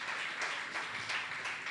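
A church congregation applauding during a sermon, a steady wash of many hands clapping together for a short burst, moderately distant and without talk.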